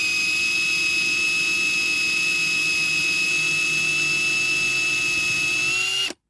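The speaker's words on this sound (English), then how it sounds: "we just gently drill it in" Drill boring through a pilot hole into the diecast metal body of a Corgi Toys Ford Escort Mk3 van: a loud, steady high-pitched whine that runs unbroken for about six seconds, then cuts off abruptly.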